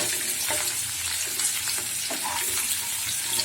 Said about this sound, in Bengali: এখন আমি একটা কড়াই নিয়ে এতে 1/4 কাপ পরিমাণ পেঁয়াজ কুচি দিয়ে দিলাম।